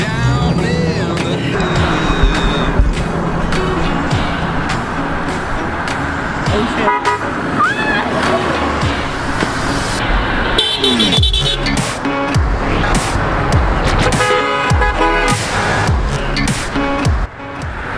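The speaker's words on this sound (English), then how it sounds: "All you gotta do is honk!" Car horns honk repeatedly along a road, loud overlapping toots and beeps over traffic noise, with cars passing and a busy outdoor crowd mixed in.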